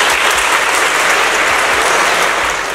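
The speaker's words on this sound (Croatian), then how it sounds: "još jedan veliki aplauz za sve vas koji ste danas došli" Loud, steady applause from a crowd of children and athletes at an outdoor European Sports Day event in Travnik, unbroken from start to finish with no voices over it.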